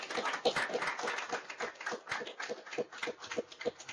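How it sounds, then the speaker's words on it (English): A small audience claps for a speaker, sharp individual hand claps coming in a quick, uneven rhythm, close and fairly loud, over about four seconds. "Give a round of applause."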